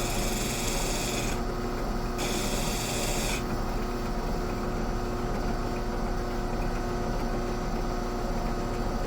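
A metal chisel is sharpened against an abrasive, giving a steady, continuous rasping grind that runs close and unbroken throughout, with no voices.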